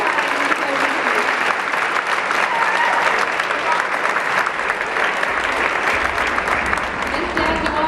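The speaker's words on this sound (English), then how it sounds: "let's give them a big round of applause" Audience applause at an elementary school choir's dinner theater, a steady dense clapping crowd sustained loud throughout, with a low rumble entering near the end.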